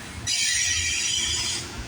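Freight train cars rolling past at a Canada Day rail crossing, a loud steady high-pitched wheel squeal with rumbling underneath, close and sustained for most of the moment.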